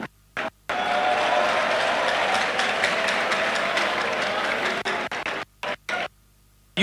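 An audience at a public lecture breaks into applause, a dense, even roar of many hands after a few brief claps, holding steady for about four seconds before breaking into short bursts and scattered last claps.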